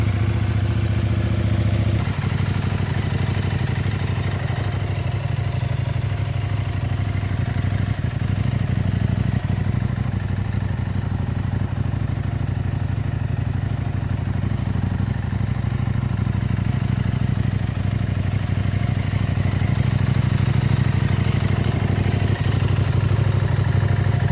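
A KTM 890 Adventure R fitted with a Sharon aftermarket exhaust runs steadily at idle while warming up, a deep, loud, continuous throb with a slight mechanical clatter, close by and unchanging throughout.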